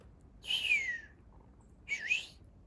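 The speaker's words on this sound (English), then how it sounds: "There is the sound of an American goldfinch in the distance." An American goldfinch gives two faint, distant whistled calls, each a sliding note about half a second long, separated by a short pause in an otherwise quiet setting.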